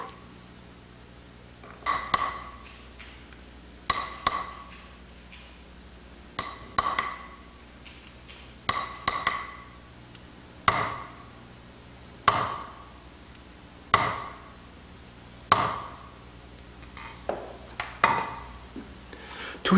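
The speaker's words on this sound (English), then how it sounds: "signs are hammered into the plate one at a time" Steel music engraving punches are hammered one at a time into a metal plate, sharp ringing strikes repeating at a slow, even pace, each with a short metallic decay, close and clear.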